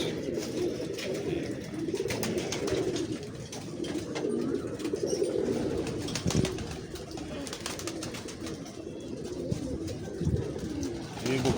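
Pigeons at a breeding setup coo in a continuous, overlapping low rolling chorus, close and fairly loud, with occasional soft clatters and flutters among them.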